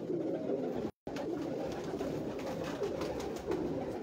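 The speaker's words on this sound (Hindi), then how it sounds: "ये है जी डब वाले कबूतर" Dub pigeons from an old-breed collection coo steadily and close by, with soft repeated calls that run for several seconds and break off for only a moment.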